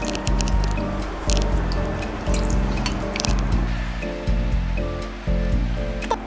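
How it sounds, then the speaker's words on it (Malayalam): Water poured through a cotton cloth to wash freshly made chenna for rasmalai, heard as close splashing and trickling with squishy dripping in uneven bursts, loud and without speech. "ഒരല്പം വെള്ളം കൂടി നമുക്ക് ഒഴിച്ചു കൊടുക്കാം. നന്നായിട്ടിത് വാഷ് ചെയ്തെടുക്കണം."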